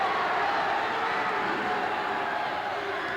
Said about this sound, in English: Norristown crowd really into it now.